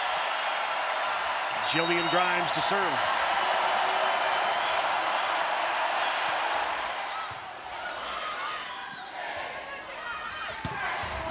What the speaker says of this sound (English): As loud as this Devaney Center crowd has been all year.